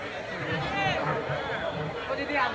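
A dense crowd at a Durga Puja pandal fills the space with a steady babble of overlapping voices, close and continuous, with no single voice standing out.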